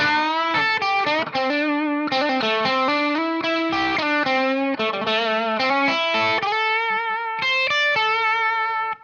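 Distorted electric guitar plays a flowing minor pentatonic lead line of bends and quick note runs from a guitar solo, steady and fairly loud, with no voices.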